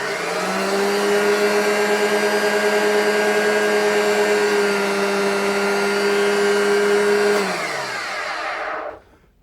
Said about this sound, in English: This machine isn't in the best of condition. As well as being a bit noisy,